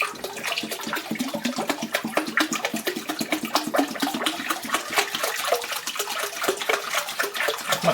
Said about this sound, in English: This is where it starts splashing everywhere